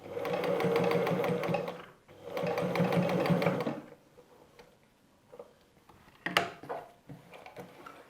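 Sewing machine stitching a patchwork quilt block with curved pieces, two loud close bursts of rapid even stitching separated by a short pause, then quieter handling clicks and rustles.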